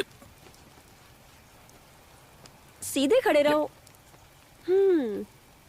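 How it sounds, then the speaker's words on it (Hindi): Light rain falls as a faint, steady patter in the background, while two short bursts of speech rise above it. "वैसे भी तेज बारिश नहीं हो रही है।"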